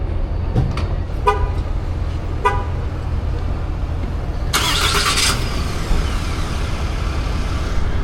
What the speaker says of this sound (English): I can start my truck with my phone.